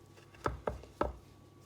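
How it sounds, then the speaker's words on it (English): A knife chops through rolled mithai dough on a board, cutting it into small pieces with three sharp, close taps in quick succession and no talking. "you're gonna cut and make little pieces like this"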